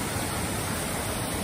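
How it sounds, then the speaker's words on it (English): A waterfall at East Tyers camp ground on the Australian Alps Walking Track gives a steady, unbroken rushing roar of falling water, close and full, with no voices. "famous waterfall."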